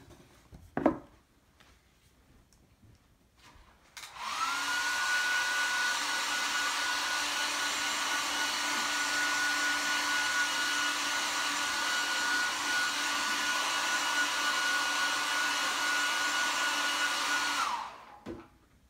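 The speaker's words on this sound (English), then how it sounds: "Let me hit it one more time with the dryer" After a faint click, a heat dryer switches on and blows with a steady, loud roar and a thin whine for about thirteen seconds, then cuts off.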